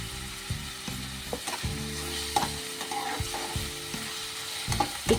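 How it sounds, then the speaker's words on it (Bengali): Chopped onion frying with whole cumin seeds in a pan: steady close sizzle and crackle with repeated scraping stir strokes, no voices. "জিরে ফোড়ন দিয়েছি, শুধু গোটা জিরে দিয়ে পেঁয়াজটাকে ভালো করে ভেজে নিচ্ছি।"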